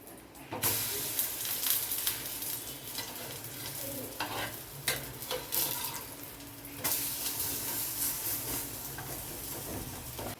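Egg and milk pancake batter sizzling in oil in a frying pan, a continuous close hiss and crackle with intermittent scraping and clattering from a spatula, no voices.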